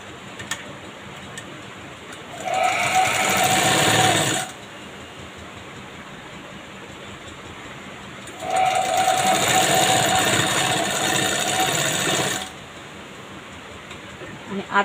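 Sewing machine stitching a princess-cut blouse in two steady runs of a few seconds each, separated by a quiet pause, close and moderately loud.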